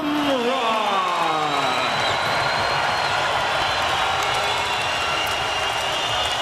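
A large arena crowd at HP Pavilion in San Jose applauds and cheers after a Strikeforce MMA title bout ends. Dense, steady clapping and roaring fill the whole stretch, with a commentator's voice talking over it.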